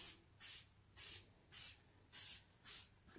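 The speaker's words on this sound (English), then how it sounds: "I just sprayed my stencil lightly with that spray adhesive." Short bursts of 3M spray adhesive from a hardware-store can misting lightly onto a stencil, six evenly spaced hissing puffs, close and fairly quiet with brief pauses between them.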